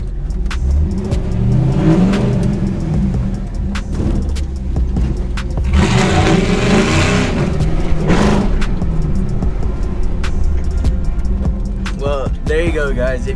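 An old truck fitted with a 6.0 engine does burnouts at a show, the engine droning and revving up and down in repeated surges, loud and close, with a swell of tire roar near the middle and people talking.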